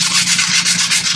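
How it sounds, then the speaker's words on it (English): Sandpaper rubbing nubs off a handmade wooden wand, a loud, close, continuous scratchy rasp in quick back-and-forth pulses, no talk. "the main focus right now is going to be getting all the nubs sanded off nice and smooth"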